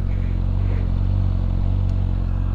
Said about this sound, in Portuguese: Olha aí o escape.